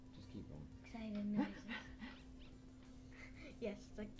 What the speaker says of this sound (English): Lesser dog is barking excitedly.